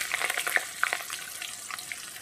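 Chopped onion hits hot oil tempered with cumin seeds, giving a close, steady sizzle sprinkled with sharp crackles and pops, loudest early on before settling into a softer fry.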